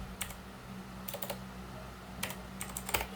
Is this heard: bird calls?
no